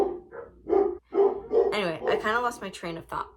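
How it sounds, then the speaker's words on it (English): Dogs bark in short yips and whimpers indoors, close by, mixed in with someone talking over them. "I'm sorry about the dogs."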